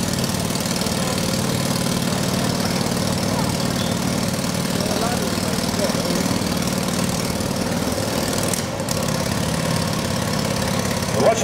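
A motorcycle engine idles steadily at a Wall-of-Death show stand, a constant low rumble that fills the whole stretch without pause, with crowd noise and an announcer's voice mixed in.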